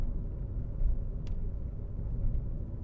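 Car gathering speed on a driving test route, a steady low engine and road rumble running throughout with no voices over it.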